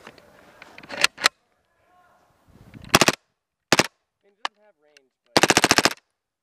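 Taurus PT92 pistol fitted in an M9 Roni carbine kit firing in rapid bursts, sharp loud cracks in quick strings separated by pauses, with brief handling clicks and faint voices between strings.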